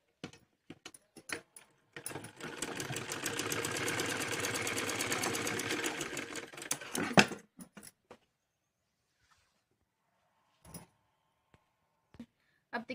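A sewing machine stitches a folded salwar belt edge in one steady run of rapid mechanical chatter lasting about five seconds, followed by scattered quiet clicks and handling taps.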